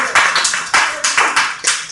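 A small group of students in a class claps in quick, uneven bursts, several sharp hand claps in a row, close and fairly loud.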